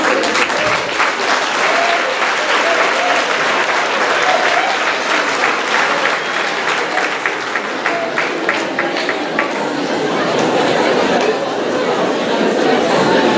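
An audience applauds medical students at a student citizens' day event in Rouen, with sustained, dense clapping filling the hall for several seconds, mixed with chatter and scattered voices before the claps thin out.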